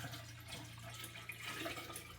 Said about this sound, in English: Let's get this poured in.